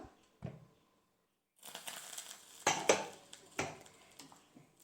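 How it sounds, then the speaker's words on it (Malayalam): A pressure cooker's lid being opened after the steam has been released, a few close metallic clanks and scrapes of the lid against the pot after a short quiet pause, with no voice. "കുക്കറിൻ്റെ ആവിയെല്ലാം പോയിട്ടുണ്ട് നമുക്ക് തുറക്കാം"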